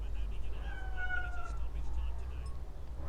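A cat meows once, a drawn-out mid-pitched cry over a low rumbling background, with a voice faintly present.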